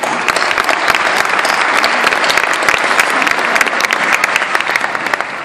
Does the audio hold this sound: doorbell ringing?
no